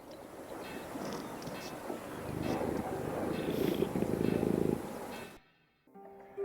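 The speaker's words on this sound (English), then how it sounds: "That is a cat." A cat purrs in a low, continuous rumble that swells gradually louder, then cuts off abruptly near the end, leaving near silence before a faint noise returns.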